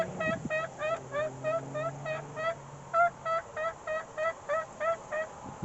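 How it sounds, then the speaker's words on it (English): A turkey call produces gobbling, a rapid rattling series of throaty gobbles repeated in short, evenly spaced bursts, close and fairly loud with nothing else over it. "Not to be confused with the turkey call,"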